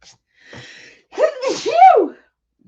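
One loud, close sneeze follows a short indrawn breath, with nothing else around it.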